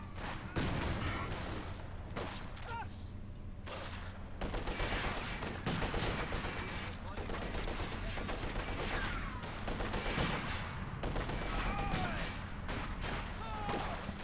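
Rifle and sniper gunfire from a Company of Heroes 2 battle crackles in dense, overlapping volleys with scattered thuds and booms, loud and continuous throughout with a voice talking over it.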